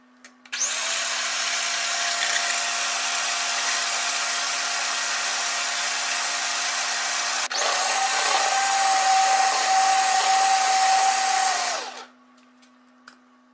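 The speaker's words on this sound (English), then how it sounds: "Using a hand mixer, you're going to whisk for approximately 1 to 2 minutes." An electric hand mixer whisks whipping cream for homemade chocolate popsicles, a steady, close motor whir running without a break for about eleven seconds and shifting slightly in tone partway through, with no talking.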